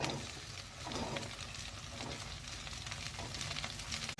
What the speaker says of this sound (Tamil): இது நல்லா வதக்கி சுருள வதங்கினது நல்லா எண்ணெயில் வதங்கிடுச்சு